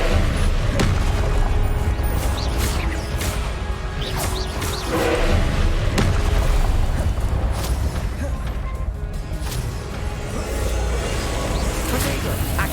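Spell blasts from Hogwarts Legacy gameplay on PC: dense booming explosions and whooshing crashes layered over constant in-game combat noise, with a loud sustained roar and repeated impacts throughout, plus speech mixed in.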